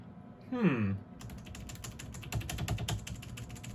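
A username is typed on a computer keyboard during Windows Whistler setup, a quick run of light, close key clicks after a brief soft whoosh.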